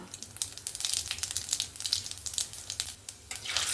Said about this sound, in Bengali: সামান্য পরিমাণে একটু পাঁচ ফোড়ন নিয়েছি পাঁচ ফোড়নটা দিয়ে দেব